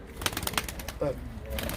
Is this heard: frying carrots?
no